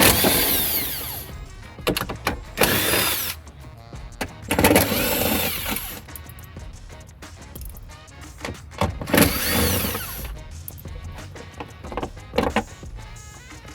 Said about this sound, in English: I'm going to start taking off some of these 10mm bolts that are holding the regulator in